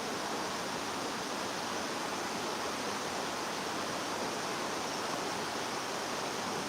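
A creek runs in a steady, even rush of flowing water for several seconds, continuous and unbroken with no voices.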